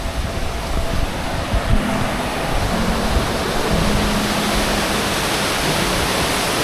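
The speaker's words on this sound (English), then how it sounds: "we're going down to the waterfall in the mist" Waterfall roaring through misty rain on the Milford Track, a steady broadband rush of falling water that fills the whole clip at close range, constant and unbroken.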